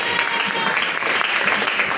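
A church congregation at a Sunday service bursts into applause to acclaim God, with dense clapping filling the hall and voices mixed into the steady, moderately loud ovation.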